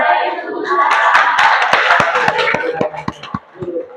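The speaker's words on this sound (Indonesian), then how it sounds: "Ayo kita beri aplaus." An audience applauds after a classroom presentation on arithmetic sequences, a dense patter of many hands clapping steadily, then thinning out toward the end.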